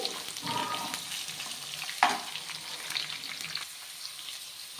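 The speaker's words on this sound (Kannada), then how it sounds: "ಈರುಳ್ಳಿನೂ ಹಾಕ್ಕೊಳ್ಳೋಣ ಇದನ್ನು ಒಂದು ಎರಡು ನಿಮಿಷ ಬೇಯಿಸ್ಕೊಳ್ಳೋಣ ಎಣ್ಣೆಯಲ್ಲಿ" Onions sizzle in hot oil in a pan for a potato masala dosa filling, a steady crackling fry with one sharp clink partway through.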